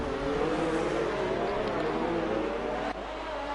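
A video-game F1 race car engine leaves the pit lane on the Italy circuit, a steady close whine with a slight pitch rise, then an abrupt drop in level near the end, with no other sounds.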